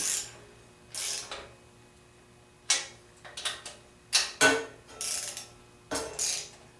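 Torque wrench ratcheting on Volkswagen 1915 engine bolts: quiet, close metallic clicks in short bursts separated by pauses, with a faint background hum.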